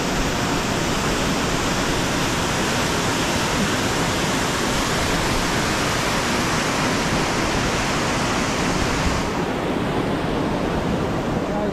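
Forgotten Falls in Paluma National Park, North Queensland, roars as a loud, dense, unbroken rush of falling water heard up close, with no other sounds.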